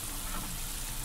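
Garlic frying in oil, a continuous close, dense sizzle with no talking over it.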